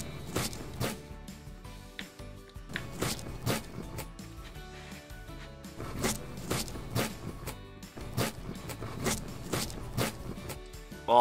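A toy knife slicing through a Play-Doh pizza, repeated rhythmic scraping and pressing strokes in steady bursts, close and fairly clear, with no talking.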